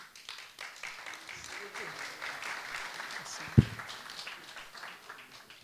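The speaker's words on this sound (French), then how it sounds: "mis sur mon chemin Nelson Montfort, que je vous demande d'applaudir." Audience at a literary salon applauds to welcome a guest, a soft, sustained patter of clapping from a modest crowd, with one sharp knock partway through.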